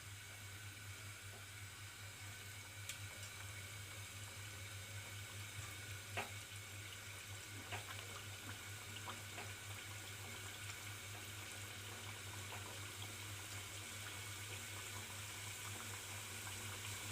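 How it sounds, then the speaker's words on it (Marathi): Wheat flour and jaggery kapanya pieces fry in hot oil with a steady, faint broadband crackle and a constant low hum, a few small pops breaking through, no voices. "आता आपण आहे ना तळायला घेऊया."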